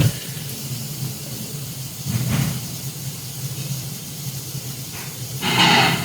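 An airbrush sprays thinned Mr. Color paint in a steady, close hiss that runs almost unbroken. It swells briefly partway through and again at the end.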